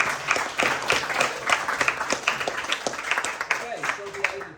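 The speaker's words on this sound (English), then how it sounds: "give us big applause to welcome everyone" Audience applause at a youth Buddhist discussion gathering, a steady wash of many hands clapping for several seconds, with voices talking underneath.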